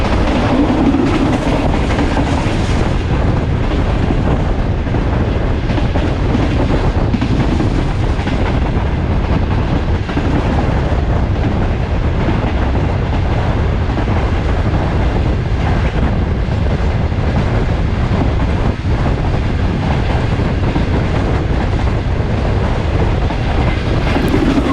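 Shalimar Express passenger train running at over 100 km/h between Karachi and Multan, a steady loud rumble of wheels on rail with faint clickety-clack throughout, heard from inside the carriage with no talking.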